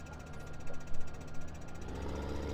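A farm tractor engine runs steadily nearby with a loud, rough low rumble and irregular knocking pulses, continuous throughout with no speech.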